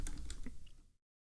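Quick computer keyboard keystrokes, a short burst of several clicks close up and fairly quiet, ending abruptly in silence.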